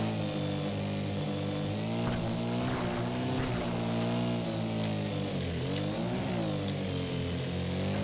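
Dirt bike engine in MX vs. ATV All Out revving continuously on a rutted motocross track, its pitch rising and falling with throttle changes, loud and close throughout with no talk.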